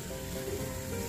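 Vrat aloo tikki, potato patties frying in a pan, give off a steady, even sizzle for a brief moment, with no talking.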